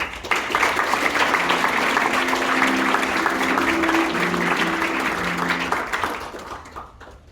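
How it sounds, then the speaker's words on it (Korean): Sustained audience applause fills a union's regular delegates' convention hall, dense steady clapping over a low hum with a faint tonal drone, fading toward the end. "큰 박수 부탁드립니다"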